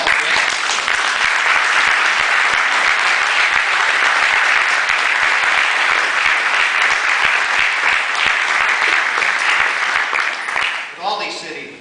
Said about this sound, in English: You could applaud Mark.